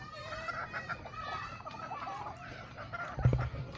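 Chickens being fed on a backyard poultry farm cluck softly and intermittently at close range, with a low thump near the end.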